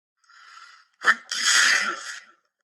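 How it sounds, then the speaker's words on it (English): A short inhale builds up and then a single loud, explosive sneeze bursts out nearby, trailing off into a breathy exhale. "I sneezed a great sneeze."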